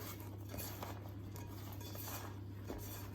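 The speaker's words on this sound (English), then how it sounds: "Give it a mix around." Aubergine pieces with salt and oil are tossed in a bowl, soft scraping and clinking of a utensil against the bowl under a low steady hum.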